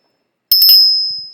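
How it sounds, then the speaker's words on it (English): A single loud, bright bell strike with a quick rattling onset, then a clear high tone ringing on and slowly fading. "I will be ringing a loud bell to welcome in spirit now."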